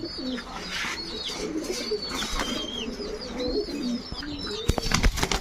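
Large giribaz racer pigeons, some green-necked, coo repeatedly in close, overlapping calls, with a few sharp clattering knocks near the end.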